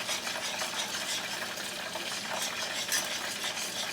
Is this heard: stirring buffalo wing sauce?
yes